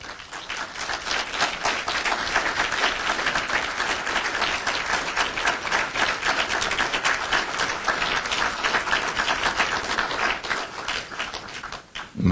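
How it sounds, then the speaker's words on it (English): Steady, full applause from the audience at an awards luncheon, a dense wash of clapping that holds for about twelve seconds before tailing off. "My uncles are wondering what applause they just heard."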